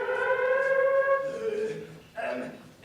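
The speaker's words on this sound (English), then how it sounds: "that was an air raid siren" Air raid siren sounding a long rising and falling wail during a drill at a sea crossing in a staged musical production, steady and loud for about two seconds before a brief dip and a renewed swell.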